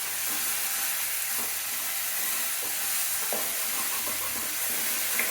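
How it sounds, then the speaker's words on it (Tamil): Ginger garlic paste sautéing in hot oil for a mutton kulambu, a steady broadband sizzle with scattered soft stirring scrapes and small pops throughout, fairly close and even in level. "2 ஸ்பூன் இஞ்சி பூண்டு பேஸ்ட்டு சேர்த்துட்டு பச்சை வாசனை போகிற வரைக்கும் நல்லா எண்ணெயிலேயே நல்லா வதக்கணும்"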